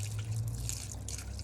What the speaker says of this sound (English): Draining the last remaining water.